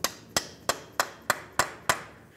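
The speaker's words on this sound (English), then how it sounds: "Use a hammer and punch, come right in the center of that axle and drive it out of the wheel bearing." A hammer strikes a punch to drive the axle out of the wheel bearing on a 2010-2013 Ford Transit Connect front end, seven sharp metallic blows in an even rhythm, close and alone.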